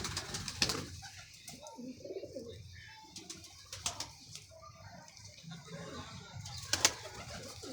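A golden pigeon coos softly in low, throaty bursts close by, with a few sharp clicks and rustles from handling the bird.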